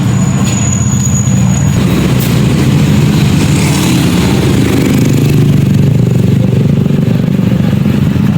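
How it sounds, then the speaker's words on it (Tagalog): A delivered rental motorcycle idles close by, its steady low engine rumble continuous and loud with a faint high whine above, no voices present. "Guys, andyan na yung natin, dumating na yung motor natin."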